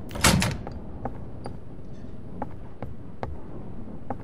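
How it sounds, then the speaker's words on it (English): A door is answered and pulled open with a loud, brief clatter at the start, followed by a few faint knocks or clicks against steady background noise. "Answer the door."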